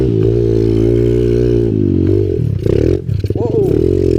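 A Kawasaki KLX 110 pit bike engine labors loudly up a steep hill, a close, sustained buzzing drone that wavers and sputters as revs rise and fall near the end.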